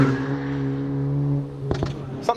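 A 2018 Hyundai i30 N hot hatch pulls hard under acceleration, its engine holding a steady droning note up close before a couple of sharp bursts near the end.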